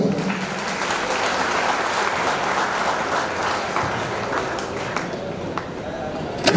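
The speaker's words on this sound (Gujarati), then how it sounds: "જોરદાર તાળીઓ થઈ જાય" Audience applause at a school award ceremony, a sustained burst of many hands clapping together, steady and fairly loud, tapering slightly toward the end.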